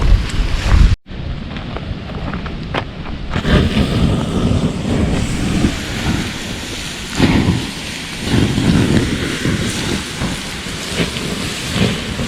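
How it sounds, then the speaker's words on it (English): Strong wind roars steadily at a late-November campsite in Dolliver State Park, north central Iowa, buffeting the microphone with dense, loud rushing noise after a brief cutout near the start. "don't think it's safe when it's this windy now."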